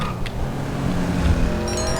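A car drives in city traffic in GTA V Online, with a steady, close engine hum, rolling road noise and a brief tire squeal.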